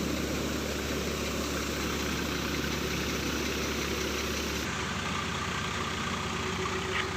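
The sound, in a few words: tractor engine running a cutter thresher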